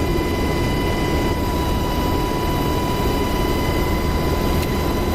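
A UH-60L Black Hawk helicopter flies in the DCS World video game, giving a loud, steady turbine-and-rotor drone with a constant whine that runs unbroken throughout, with no talk.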